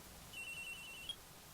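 A telephone rings in the Phoenix Wright: Ace Attorney video game as one faint, steady electronic tone lasting under a second, with no voices.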